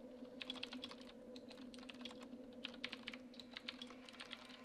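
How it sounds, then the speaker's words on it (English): Rapid, irregular keystrokes on a computer keyboard clatter in quick bursts, fairly close and clear over a steady low electrical hum, with no talking. "And I'm actually typing this, by the way"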